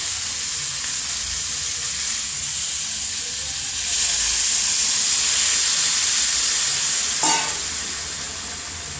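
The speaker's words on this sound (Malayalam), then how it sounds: "സ്വല്പം ചൂടുവെള്ളം ഒഴിച്ചു കൊടുക്കാം" Hot water poured into upma sizzling in a hot pan gives a loud, steady frying hiss that swells sharply partway through, then settles back into a bubbling sizzle.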